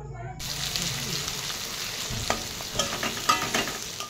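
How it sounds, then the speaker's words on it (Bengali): Chopped onion sizzles steadily in hot oil in a pan for a curry, with a broad continuous hiss and a few clicks and scrapes of stirring near the end. "প্রথমেই দিয়ে দিচ্ছি এখানে পেঁয়াজ কুচি।"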